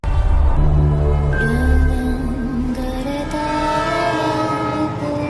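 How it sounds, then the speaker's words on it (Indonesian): A train rumbles and begins moving, with a sustained horn-like tone rising in pitch over a heavy mechanical drone, loud and close. "kereta pun berjalan."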